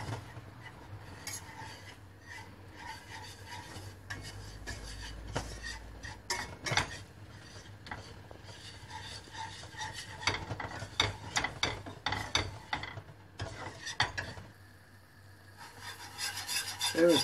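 A spoon repeatedly scrapes and rubs a pan as 4 tablespoons of flour are stirred and roasted in 75 grams of melted butter for a broccoli gratin. The scraping is quiet, steady and irregular, with no talking.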